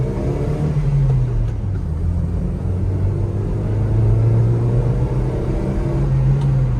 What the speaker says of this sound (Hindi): तो पूरा एक्सीलेटर दे दिया मैंने दूसरे तीसरे गियर में